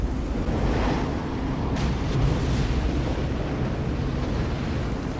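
Heavy storm surf pounds a Baja coastline, a dense, loud, unbroken roar of breaking ocean waves mixed with gusting wind.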